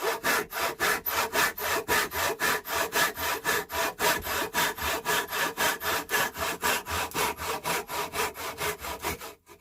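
A hand saw cuts steadily through wood for a dovetail halving joint, with about forty quick, even push-and-pull strokes in a fast regular rhythm. The rasping is close and loud, with no talking.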